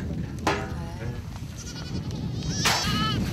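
A herd of goats at a desert well in the Gobi, bleating in several overlapping calls, some loud and near, with a bleat rising again toward the end.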